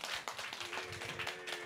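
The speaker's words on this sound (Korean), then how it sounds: "우리 청년부를 위해서 격려의 박수 한번 하겠습니다" Scattered clapping from a small church congregation cheering on its youth group, sparse and uneven over a brief stretch with a faint steady tone in the background.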